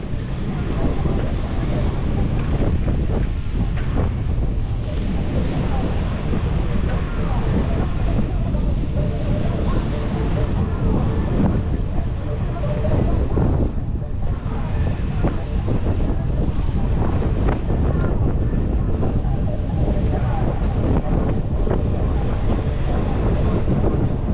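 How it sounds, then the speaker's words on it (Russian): Stormy December wind blows along the Black Sea coast at Adler, Sochi, a loud, unbroken roar of gusts with the rush of surf beneath it that runs at full strength the whole time. "Да уж, вот так шторм."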